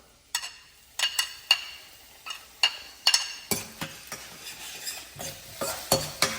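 A paste of garlic, ginger and green chilli fries in hot oil for veg Manchurian, with a steady sizzle broken by a dozen or so sharp clacks and scrapes of a spoon stirring against the pan.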